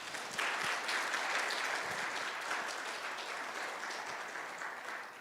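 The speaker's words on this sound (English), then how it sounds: "So how about a round of applause for Margaret?" Sustained applause from an audience at a guide dog graduation ceremony, even and continuous for about five seconds with a few distinct claps standing out, fading slightly at the end.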